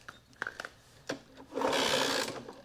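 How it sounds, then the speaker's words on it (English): The kickstarter of a Honda CL90 motorcycle is kicked. Sharp mechanical clanks and rattles are followed by a brief louder rushing burst from the engine, heard close up and without speech. "Let's kick it on the Kickstarter a couple times."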